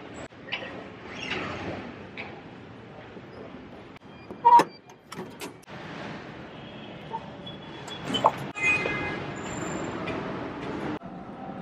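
A metro train ride in Manila, with continuous rumbling carriage noise, clanks and rattles, sharp metallic bangs and a brief high squeal, loud and close.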